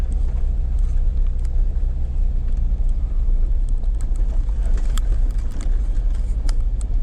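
A car drives up a canyon road to Silver Lake Reservoir in Utah in early spring, the road rough and potholed; a steady loud engine and road rumble fills the cabin, with scattered rattles and knocks as the car bucks over bumps.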